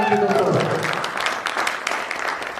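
Audience applause at a seminar in India, a broad wash of clapping from a crowd, steady and fairly loud over the short span and fading slightly toward the end.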